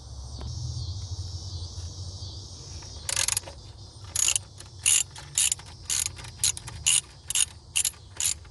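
A ratchet with an 8mm socket backing out engine cover bolts on a 2008 Ford Escape XLT, giving close, crisp clicking bursts in a steady repeated rhythm over a low background hum.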